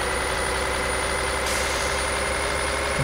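A 1020 horsepower Kenworth truck engine runs at light, feathered throttle in Euro Truck Simulator 2. It gives a steady, close, low droning rumble with a constant whine above it and no talking.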